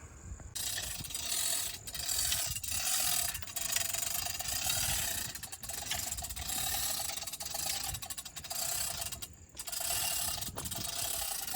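A ratchet hoist with straps lifting a giant pumpkin, clicking and grinding in steady repeated pulls, each stroke a burst of close metallic ratcheting separated by brief pauses, with no talking.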